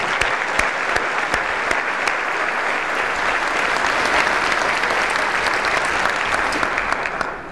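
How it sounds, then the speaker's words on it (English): Sustained applause from a community breakfast audience, dense steady clapping throughout with no talk over it, fading slightly at the end. "Let's give them one more round of applause."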